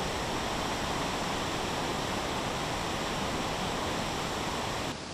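Tortum Waterfall in Turkey roars with a dense, steady rush of falling water that fills the whole clip at full loudness, continuous and unbroken, with no voices.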